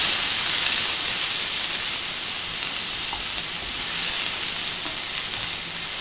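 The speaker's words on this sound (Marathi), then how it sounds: "आपल्याला एक मिनिट भर हा ठेचा चांगला परतून घ्यायचा आहे।" Thecha, a coarse chili paste, sautés in a pan for bread roll stuffing, giving a continuous, even hissing sizzle close by, with no talking.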